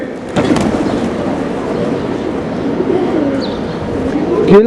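Pigeons scattered by a running child in an outdoor public square give off soft cooing and a brief flurry of wing flaps, close and moderately loud over a constant bustle of ambient noise.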